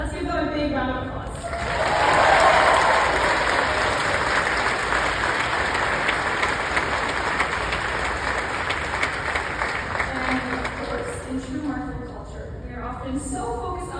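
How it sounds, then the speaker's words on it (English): A round of applause from a graduation ceremony audience, rising after a brief spoken lead-in and holding as a broad, steady roar before tapering as a voice returns. "Let's give them a big round of applause."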